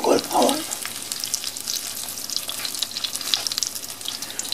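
A breaded vegan cutlet sizzles and crackles steadily in a pan of hot oil, loud and close throughout, with a brief clatter near the start.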